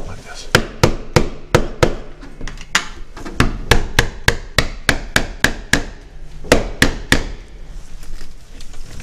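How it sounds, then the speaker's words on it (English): A hammer bangs sharply on a screwdriver while a mortise lock is worked out of an old New York apartment door, around twenty crisp metallic strikes in uneven bursts, loud and close. "Let's give it another bang with the hammer and screwdriver."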